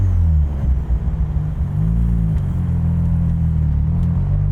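Swapped 13B rotary engine idling in a Mazda RX-3, a loud, close, low throbbing rumble with a steady uneven pulse that dips briefly and settles, running alone without talk.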